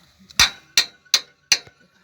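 A hammer strikes metal while a worn bearing housing is knocked out of a New Holland TT4.65 tractor, one person prying as another hits. Four sharp, close, evenly spaced metallic blows ring out, each decaying quickly.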